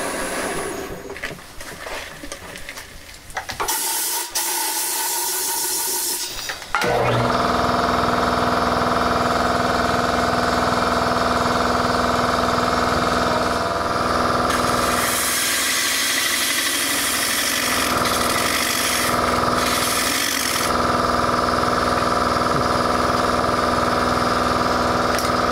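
A wood lathe turns a lamp base with a steady motor hum and vibration, quieter and rougher at first, then a fuller, even drone after a few seconds that continues to the end.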